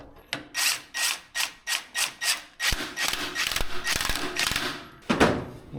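A wrench ratchets a 15/16 nut onto the steering wheel of an old Cub Cadet plow tractor, with a series of evenly spaced ratcheting strokes followed by a denser stretch of clicking and scraping, close up.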